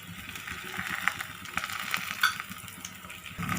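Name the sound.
paratha frying in a hot oiled pan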